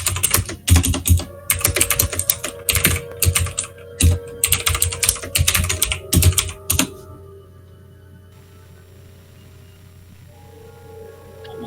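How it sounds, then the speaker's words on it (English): Fast, clattery typing on a mechanical keyboard during a game session. Close, loud key strikes come in dense bursts for about seven seconds, then stop, leaving a quiet hum. "When I'm king, mechanical keyboards will be illegal."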